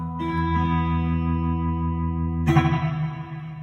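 A sustained electric guitar chord rings through a guitar pedal's Fender amp setting with spring reverb, then a second chord is struck and rings on, loud and alone.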